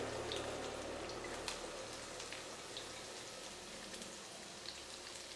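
Chopped onion sautéing in a pan with garlic gives a soft, steady, hissing sizzle that stays faint and even throughout, with a few light crackles and no talk.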